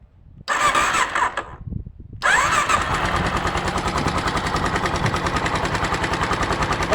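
A Kawasaki KLX 650 motorcycle engine is started with the electric starter, giving a brief cranking whirr, a short pause, then the engine catching and settling into a loud, steady, close idle with a fast regular pulse.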